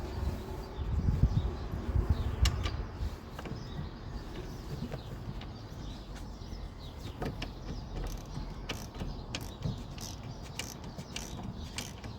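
A ratchet socket wrench clicks away on a Peugeot 207 drive shaft, its quick irregular ratcheting ticks and creaks faint and close over a low workshop rumble.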